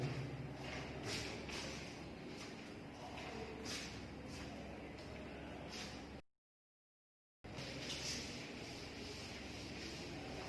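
Rubbing strokes of a duster wiping chalk off a board during a geometry lesson, steady soft scrubbing with faint brushing swishes, broken by a short silent gap.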